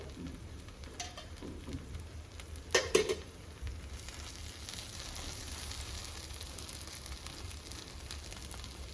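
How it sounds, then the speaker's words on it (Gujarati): Pav buns toasting on a tawa in a mix of butter and oil for Mumbai-style tawa pav bhaji, a quiet steady sizzle throughout with a brief clatter of handling near the middle. "થોડું બટર અને તેલ મિક્સ કરી અને આપણે પાઉં શેકી લેશું"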